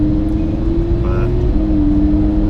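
A Lamborghini Huracan cruises with a loud, steady engine drone heard from inside the cabin. The tone stays even with no clear gear change, and voices talk over it.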